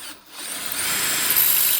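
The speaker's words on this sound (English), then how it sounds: "the drill bit broke, which was a heart-stopping moment" Power drill biting into metal while replacing a CV shaft on a 2016 Subaru Impreza, a close, high whining grind that dips briefly and then rises to a sustained, harsh screech, with no voices.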